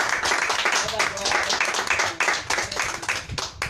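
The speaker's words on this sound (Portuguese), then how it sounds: "Vamos dar um lindo aplauso ao Senhor Jesus" A church congregation applauds in a burst of rhythmic clapping, with voices talking and calling out over the hands.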